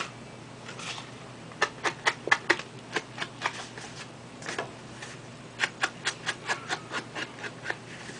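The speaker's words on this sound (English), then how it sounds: "I get my sponge, and let me edge my card really quick" A sponge dabbing ink along the edges of a handmade birthday card in a quiet craft room, making a run of short, crisp scuffing taps in two bursts, close and fairly soft with no talking.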